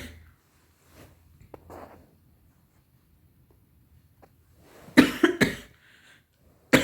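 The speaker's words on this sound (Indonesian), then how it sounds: "Mi jadi sedikit batuk nih jadinya" A woman coughs a few times in a quick cluster close to the microphone after a mostly quiet stretch with faint soft noises.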